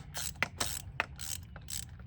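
A hand ratchet loosening spark plugs on a Chevy Equinox, a series of quick metallic clicking bursts in an uneven rhythm, close and fairly quiet, with no talking.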